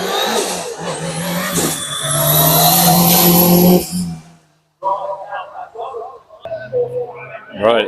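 A Renault 5 rally car on a stage rally course screams at high revs while approaching fast, loud and rising, then cuts off abruptly, followed by crowd chatter and people talking nearby.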